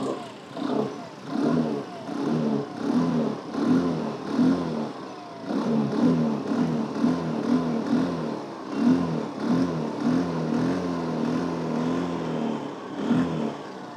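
A Hero Xoom 110cc scooter engine is revved repeatedly with the throttle, a series of short rising bursts over a throbbing idle, moderately loud and close, with no one talking.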